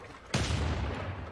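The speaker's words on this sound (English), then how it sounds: "The cannon is the first shot to fire in the Battle of Salvador." A sudden loud cannon blast in the strategy game Civilization 6 Gathering Storm during a battle, a sharp boom followed by sustained rumbling battle noise.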